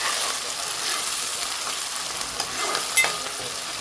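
Tomatoes fry in a pan with a steady, bright sizzle, broken by a few soft stirring scrapes near the end, with no voices.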